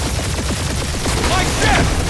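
Rapid video game gunfire crackles in a dense burst of repeated shots, loud and close, with a voice briefly heard over it.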